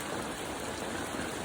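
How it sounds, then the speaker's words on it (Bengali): Heavy rain pours down steadily outdoors where farmers are washing jute, a dense, even hiss of falling water with no pauses. "অঝরে বৃষ্টি, খুব বৃষ্টি হচ্ছে।"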